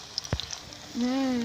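Mustard flower fritters frying in oil give a faint, steady sizzle, broken once by a short utensil clatter before a sustained, humming tone joins in over the frying.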